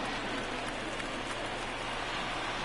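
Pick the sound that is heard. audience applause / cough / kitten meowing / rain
rain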